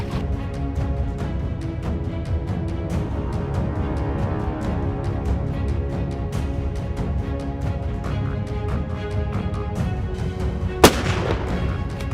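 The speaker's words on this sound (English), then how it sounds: "a precise shot is delivered with a large caliber handgun or rifle" A single sharp report from a large caliber handgun or rifle rings out during a Louisiana alligator hunt, a sudden loud crack standing out over constant rumbling noise and a fast run of faint ticks.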